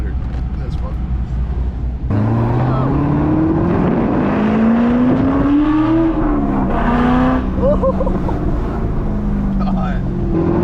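A C5 Corvette accelerates from inside the cabin, its engine note climbing steadily through the gears with a loud, continuous drone, while people talk over it.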